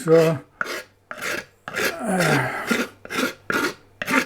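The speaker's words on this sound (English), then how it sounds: "this is where the hook knife comes in handy for scraping the old" A Morakniv hook knife scrapes dried oatmeal residue off well-used wooden kitchen gear, giving close, rasping strokes in a steady rhythm of about nine short scrapes with brief pauses between them.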